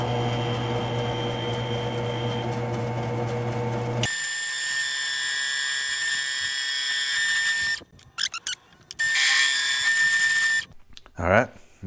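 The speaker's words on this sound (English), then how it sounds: "Let's try cutting this first hole." A power drill bores a hole through a metal part clamped in a vise, part of a Screaming Eagle intake and breather install on a 2014 Harley Ultra Limited; a steady high whine runs for several seconds, then stops and restarts in bursts.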